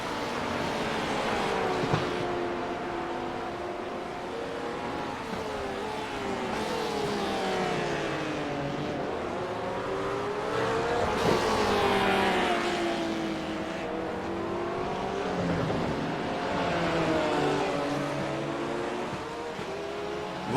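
GT3 race cars lapping Interlagos in a racing video game, engines howling and rising and falling in pitch through gear changes, loud and continuous with overlapping cars close together, no talking.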